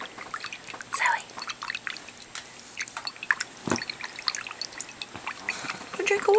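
A puppy just back from the vet laps water from a bowl: soft, irregular wet clicks and drips close by, with quiet voices murmuring now and then.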